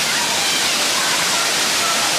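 A waterfall on a hiking trail roars as a steady, loud hiss of falling water, close and continuous with no voices.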